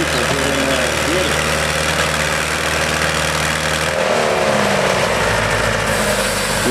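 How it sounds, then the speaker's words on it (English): A small Ford 861 diesel tractor pulls at a tractor pull, its engine droning steadily and loudly, with a shift in pitch partway through and crowd or announcer voices mixed under the noise. "look at that little Ford 861 diesel"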